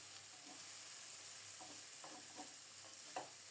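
Fish and onion fry in a pan with a continuous close hiss and sizzle, punctuated by a few soft stirring scrapes and light clinks.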